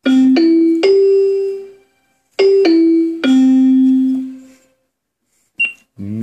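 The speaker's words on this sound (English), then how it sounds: "Bell." Bell voice on a Wilson-Ross WR-5488 keyboard, sustain off: two groups of three struck tones ring out bright and clear with long fading tails, separated by a pause, followed by a few faint clicks.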